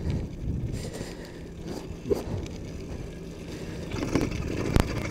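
A vehicle engine with an adjustable clutch fires up and runs with a steady rumbling idle, close by, with a few knocks and clicks over it and no talking.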